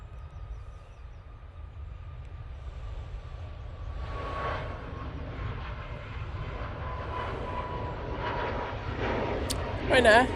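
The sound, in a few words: Ryanair Boeing 737 MAX 8 departing Manchester Airport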